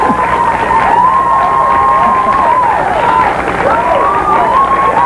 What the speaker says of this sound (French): On l'applaudit, tout le monde entend